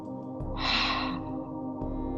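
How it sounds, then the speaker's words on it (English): A single breathy, open-mouthed exhale, soft and close, like fogging up a glass, rising then fading over about a second. "breathe out as though your hand was a mirror. Fog up the mirror."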